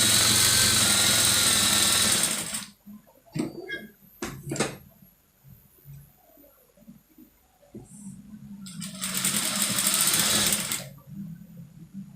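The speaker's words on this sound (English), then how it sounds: "And then I'll sew from here, taking that 1/4 of an inch I left at this point." A sewing machine stitches the lining of a lace top in two loud, steady bursts, one at the start and one near the end, with quiet handling noises between them.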